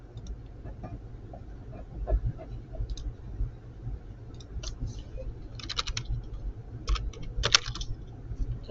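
Computer keyboard typing during a hockey schedule prediction stream, a steady run of soft clicks with louder bursts of quick keystrokes, close and alone over a low background hum.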